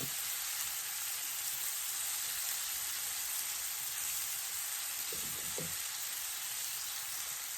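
Shrimp fry in butter in a skillet while cooking Cajun-style shrimp and grits, giving a steady, even sizzle throughout, with a couple of faint stirring clicks and no talking.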